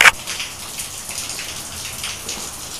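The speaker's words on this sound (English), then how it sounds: "I think we just had 2 inches of rain." Heavy rain falls in a steady, dense hiss of drops pattering on surfaces, continuous and moderately loud throughout.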